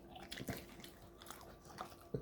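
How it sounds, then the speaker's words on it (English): A pet dog gnaws on the torn remnants of a stuffed toy, giving soft, irregular close-up chewing and biting crunches with small wet clicks and a sharper bite near the end. "he's chewing on the remnants of one of his stuffed toys,"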